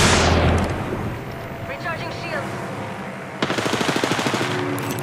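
Gunfire in the video game Apex Legends on King's Canyon: an opening loud burst is followed by rapid, rhythmic automatic fire toward the end, with game voice lines and speech mixed in.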